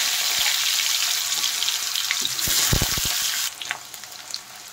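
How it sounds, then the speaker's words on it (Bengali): Potato pieces frying in hot mustard oil in a kadai give off a steady bright hiss with a few low clunks, easing to a softer sizzle after a few seconds. "তেল গরম হয়ে গেছে, এখন আমি আলুগুলো ভেজে নেব।"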